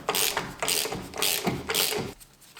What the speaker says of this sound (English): I can actually undo that with my ratchet now